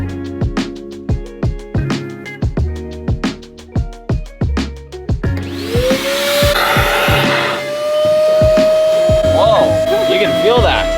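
A Craftsman shop vac cleaning truck carpet: a run of sharp clicks and knocks comes first, then the motor roars up with a rising whine and steady rushing suction, loud and close.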